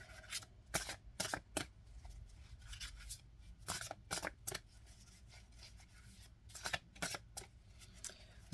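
A deck of tarot cards being shuffled up close in quick riffling bursts, pausing between rounds, with no talking.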